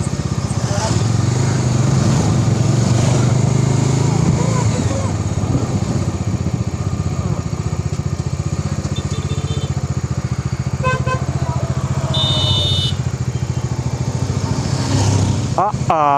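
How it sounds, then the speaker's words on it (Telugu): Dense roadside traffic near Srisailam Dam during its gate opening: motorcycle and car engines rumble continuously and close by, with horns beeping now and then and voices talking throughout. "అయ్యా ఏంది ఎంత ట్రాఫిక్"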